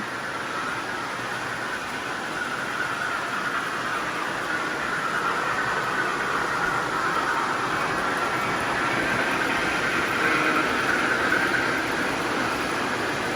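A model train locomotive runs steadily on a home layout, producing a continuous, fairly loud motor whir and rolling rumble with a faint high squeal that holds for the whole stretch.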